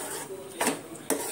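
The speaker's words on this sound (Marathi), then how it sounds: "आता हे चांगलं मिक्स करून घेते" A utensil stirs and scrapes drumstick vegetable in a metal pan, giving two sharp clinks amid soft rustling at close range.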